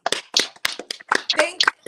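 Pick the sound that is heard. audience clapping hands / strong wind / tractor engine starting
audience clapping hands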